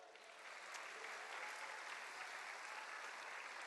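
A church congregation claps steadily, a dense, sustained wash of applause without pauses.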